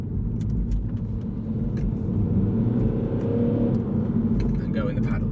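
A 2015 Mini Cooper SD engine rumbles steadily and revs up as it accelerates in sport mode, loud and close, with a voice talking over the engine noise.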